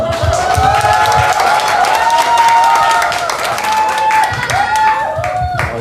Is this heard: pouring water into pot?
no